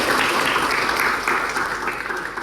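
Audience of lecturers clapping for fellow participants at a teaching certification session; a brisk, fairly close burst of applause fills the whole moment, holding steady and then thinning slightly toward the end.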